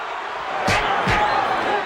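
An arena crowd at a boxing match roars during a fight, a loud rolling wash of cheering with two sharp surges close together.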